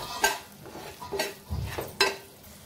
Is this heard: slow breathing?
no